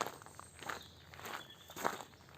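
Footsteps crunching through a hot, sunny forest: several soft, uneven steps at a slow walking pace, close by but fairly quiet, with no talking.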